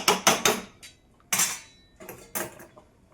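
A metal lid is set onto a cooking pot on a home stove during fish preparation, giving a few bright clinks and clatters in quick clusters, close and fairly quiet, with pauses between.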